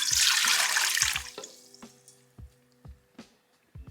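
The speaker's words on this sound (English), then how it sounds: "So first we're gonna add the warm milk." Warm milk pours in a steady, rushing stream into a stand mixer bowl for yeast roll dough, then tapers off into a few scattered drips and small clinks, close and alone without talk.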